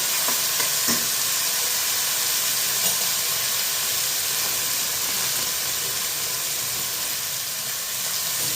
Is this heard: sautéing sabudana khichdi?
yes